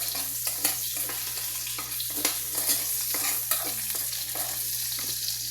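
Garlic and ginger frying in a pan while being stirred, a steady oily sizzle with a low hum behind it and irregular scraping clacks of the spoon against the pan.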